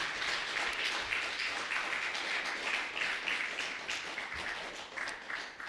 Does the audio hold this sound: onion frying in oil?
no